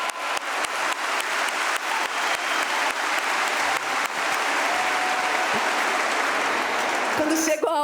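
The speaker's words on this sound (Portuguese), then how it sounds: "Aplaude o Senhor." A church congregation claps for the Lord, with many hands applauding in a steady, dense wash and a few sharper claps standing out; a voice comes through faintly near the end.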